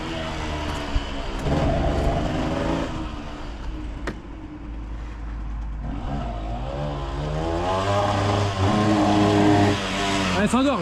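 A Honda 125 CRM two-stroke motorcycle, running rich and flooding after ten years idle, idles roughly and blips its revs in uneven rising bursts close by, with people talking over it.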